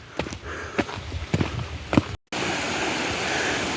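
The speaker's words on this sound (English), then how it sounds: "The creek is behind me. I can still hear it, but very faintly." Mountain creek water flowing steadily behind a hiker, a broadband rushing hiss with some footsteps and rustling in the first half, then a brief dropout before a continuous, even wash of water noise.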